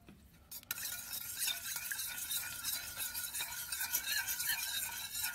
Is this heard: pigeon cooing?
no